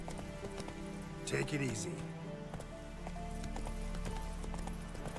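Roach the horse gallops in The Witcher 3, a rapid, rhythmic clip-clop of hooves with scattered game effects, while someone speaks briefly over it.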